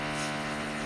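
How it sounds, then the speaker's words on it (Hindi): Power drilling from construction work in the flat upstairs, heard indoors as a steady, loud whining drone that holds unbroken for the whole short stretch with no voices over it. "सॉरी गाइस ड्रिलिंग की आवाज़ के लिए। मेरे ऊपर आई थिंक कुछ काम चल रहा है"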